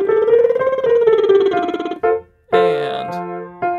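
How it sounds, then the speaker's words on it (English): A voice doing a singing lip trill in an alto range, a buzzing pitched tone gliding up and down a scale, then a second shorter trilled phrase after a brief pause. "Now we'll do that again with the lip trill, but ascending and descending."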